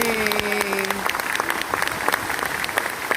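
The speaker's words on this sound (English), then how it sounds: "Susan Geisel, ladies and gentlemen, let's give her one more round of applause." Audience applause honors Susan Geisel at an Erie Canal history ceremony. Brisk, close clapping with sharp individual claps runs throughout, with a cheer or voice over it at the start.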